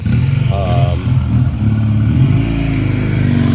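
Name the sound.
vehicle driving laps nearby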